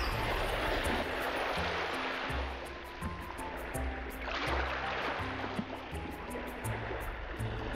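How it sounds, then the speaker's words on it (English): Ocean waves on a palm-lined beach in Puerto Armuelles, Panama, a continuous rushing wash of surf that swells and recedes, with a low tonal hum and a rhythmic ticking also present. "Beautiful waves"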